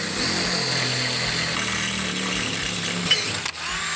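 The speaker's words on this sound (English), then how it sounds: "Now we're gonna go ahead and drill out the 1/4" bolt holes." A power drill bores quarter-inch bolt holes in a Smokeslinger grill to mount a OneGrill rotisserie kit, giving a steady, loud motor whine that cuts off near the end with a brief clunk.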